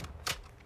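A magazine is swapped on a gun in Call of Duty: Modern Warfare II, giving a single short mechanical clack over quiet game ambience.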